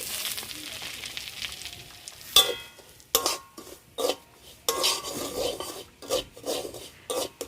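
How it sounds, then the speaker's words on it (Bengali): Semolina being stirred into hot ghee in a wok, with rasping scrapes of a spatula in repeated bursts separated by short pauses, over a soft sizzle. "ঘির সঙ্গে সুজিটাকে ভালো করে মিশিয়ে নিতে হবে"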